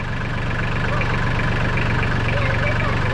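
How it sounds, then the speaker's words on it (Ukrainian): A Solis 26 mini tractor, its starter just repaired, idles close by with a steady diesel chug and a regular low knocking pulse that continues unbroken throughout. "Тракторець працює."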